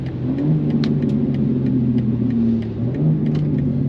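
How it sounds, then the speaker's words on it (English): A 2024 BMW M2 engine burbles steadily while driving in the rain, a close, continuous low rumble with slight rises and dips in pitch and faint patters above. "car sounds pretty good though, y'all"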